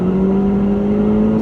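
Ford Fiesta ST pulling hard up a highway on-ramp, a loud, steady engine drone with a clear rising tone, heard from inside the car with no talk.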